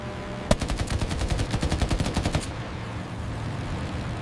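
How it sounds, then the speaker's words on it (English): Rapid bursts of machine gun fire from an F6F Hellcat fighter plane, a dense rattling string of sharp shots for about two seconds, then falling away to a low rumbling background. "The Hellcat's heavy armament unleashed devastating firepower."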